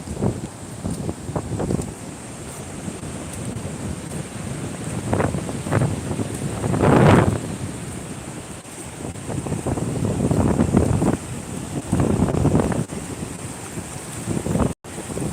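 Wind blows hard at the seashore near a ghat while surf rolls and washes in, rising and falling over about fifteen seconds as gusts buffet the microphone.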